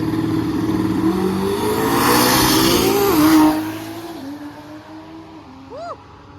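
A fifth-generation Toyota Supra race car drives at a racetrack, its engine droning steadily and rising in pitch before easing off, moderately close and alone without talk.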